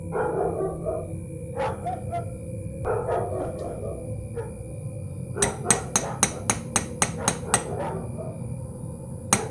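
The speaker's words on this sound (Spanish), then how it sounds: "después de escuchar los fuertes toquidos sobre la puerta" Dogs bark and yip at first, then about nine loud, evenly spaced knocks hit a temple door in a quick rhythm.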